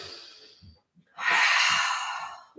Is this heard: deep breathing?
yes